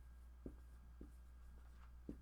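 Handwriting notes, soft scratchy pen strokes on paper in a few short separate bursts, faint and close over a low steady hum.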